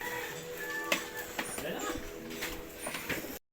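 Pigeons outdoors in hot weather at Santa Lucia, cooing and calling softly amid background noise and rustling, with some faint human sound mixed in.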